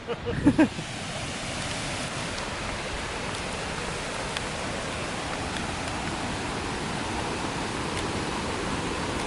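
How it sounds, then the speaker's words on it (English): 'Akaka Falls in Hawaii, a waterfall roaring as a steady broad rush of water, constant and fairly loud, with a few brief knocks near the start and no clear talk. "we've got the falls up there"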